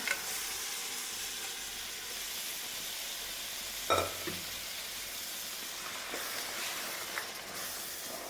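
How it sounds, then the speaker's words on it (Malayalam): Beef sizzles steadily in a hot pan for a Kerala kappa and beef perattu, with a loud burst of spoon-scraping and clattering partway through as the meat is stirred. "ഞാനിതിലേക്ക് ബീഫ് ചേർത്ത് കൊടുക്കുകയാണ്."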